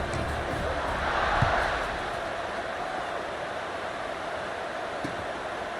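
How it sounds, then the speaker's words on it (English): Stadium crowd buzzing in College Football 26 during a Nebraska at North Carolina game, a steady broad roar that swells briefly near the start before settling into a constant background murmur. "this crowd is buzzing after that last score"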